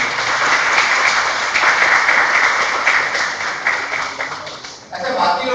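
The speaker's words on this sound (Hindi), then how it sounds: "जिन लोगों ने हाथ खड़ा किया उनके लिए जोरदार ताली बजाइए।" An audience in a lecture hall claps together in a steady, sustained round of applause that fills most of the clip, then drops briefly and picks back up near the end.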